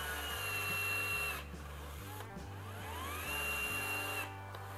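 DeWalt electric adhesive gun dispensing sticky stone adhesive, its motor whirring steadily up close with a low pulsing drone that shifts pitch as the trigger is worked.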